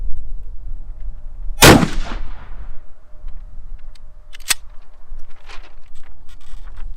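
Mossberg Shockwave shotgun firing a slug, a single sharp, loud blast close by with a short ringing tail, followed by a brief metallic clank and faint handling noises.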